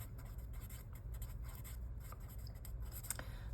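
Pen scratching across a paper list to correct a misspelled name, a faint dry rubbing that runs steadily and close with small strokes, no voices.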